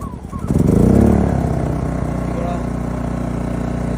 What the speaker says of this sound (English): So here we put it on start and we'll check it out if it does start or not.